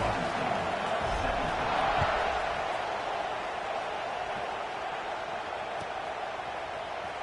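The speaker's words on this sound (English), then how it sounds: "this crowd is buzzing after that last score" A stadium crowd in a college football video game, LSU versus Penn State, keeps up a loud, continuous roar and buzz after a score, swelling slightly early, then holding steady.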